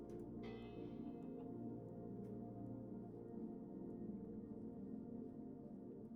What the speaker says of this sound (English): Nice little bell.